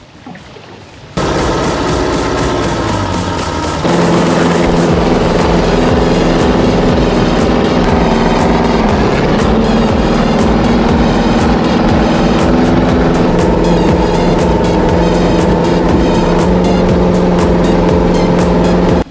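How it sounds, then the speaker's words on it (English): A rebuilt sprint jet boat engine, running lean, starts up and runs under its own power, a loud, close, steady roar with a rough rapid pulsing that rises in pitch and holds for the rest of the clip. "I'm running a little lean, so I gotta tune it, but I'm moving on my own power"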